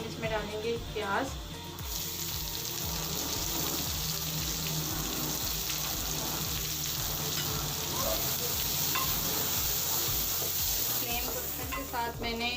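Steady sizzling of onions frying in oil in a pan with browned garlic, with occasional stirring scrapes throughout, continuous and fairly close.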